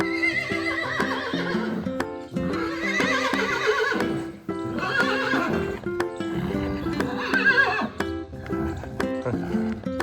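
A horse in a video game neighs repeatedly, giving several loud, clear whinnies with a few hoof clip-clops between them, and no talking over the sound.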